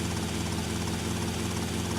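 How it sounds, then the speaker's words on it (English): A helicopter in a video game, sitting on the ground, gives off a loud steady rotor and engine drone that is constant and close for the whole stretch, with no other sound on top. "the helicopter spawns on the ground"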